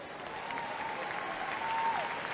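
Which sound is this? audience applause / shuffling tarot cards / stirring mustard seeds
audience applause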